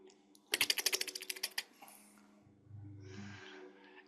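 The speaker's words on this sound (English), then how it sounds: "Larry, typing away." Rapid burst of keystrokes on a computer keyboard during an online group session, a dense run of close clicks for about a second, then a few stray taps and faint background noise.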